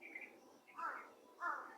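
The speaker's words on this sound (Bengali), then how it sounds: "ওই যে কাকটা ডাকছে" A crow calls among trees, two harsh, rasping caws repeating at a moderate distance, with faint chirps of smaller birds in the background.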